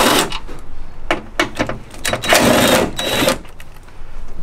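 Impact wrench hammering at bolts on a BMW E34 door, a series of sharp rattling bursts of varying length with brief pauses between, close and fairly loud with no talk.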